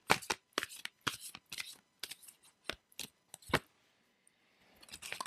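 Life Purpose oracle cards are shuffled by hand in quick, crisp bursts of riffling and flicking, close and fairly quiet, with brief pauses between bursts and no talking.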